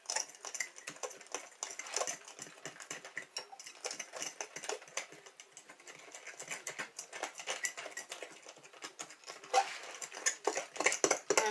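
A fork whisks Dollar Tree blueberry muffin batter in a bowl. The scraping and tapping is quick and steady, close and moderately loud, running nonstop with no one speaking.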